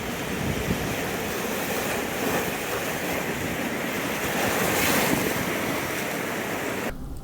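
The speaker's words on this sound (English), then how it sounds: "we then stopped at one of the other black sand beaches on the island" Surf breaks on a black sand beach in Hawaii, a continuous roaring wash of waves with gusts of wind buffeting the microphone, swelling slightly midway and cutting off abruptly at the end.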